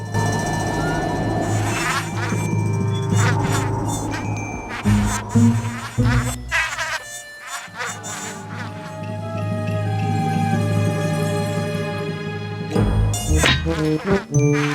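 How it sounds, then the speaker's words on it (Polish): A buzzing fly in the video game Hugo Zaklęta Kolejka drones amid layered game music, tinkling chimes and shifting synthetic tones, loud and continuous throughout. "Jakaś mucha."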